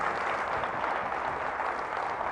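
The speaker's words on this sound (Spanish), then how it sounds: "Fuertes aplausos al Rey de Reyes y Señor de Señores" Church congregation applauding at a Catholic Mass, a dense, steady wash of many hands clapping continuously at moderate volume with no pauses.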